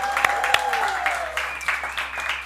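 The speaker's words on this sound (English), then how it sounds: "Let's give him a round of applause." An audience at a university Survivor-style final tribal council applauds a special guest, past winner Malawandla, with scattered, moderately loud claps under a sustained tone and some voices.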